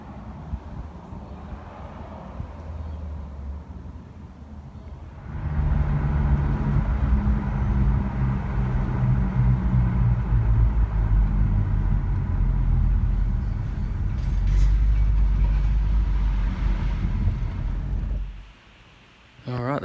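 A tow truck delivering a wrecked Ferrari to a workshop rolls up with a heavy low engine rumble that swells partway through, holds steady, then cuts off near the end.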